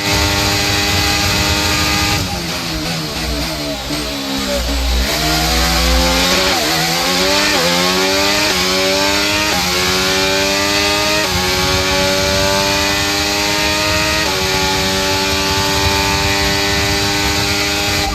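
An F1 race car engine in the F1 23 game, with overtake engaged at Saudi, screams at high revs in a loud onboard view, its pitch dropping through downshifts and then rising repeatedly as the car climbs through the gears.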